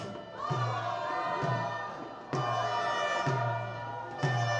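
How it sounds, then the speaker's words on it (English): The Drukpa FC supporters' cheering squad chants at a Bhutan Premier League football match against Transport United, a steady crowd roar with regular drum-like thumps every couple of seconds. "Chance now for DRUKPA FC's cheering squad to work their magic."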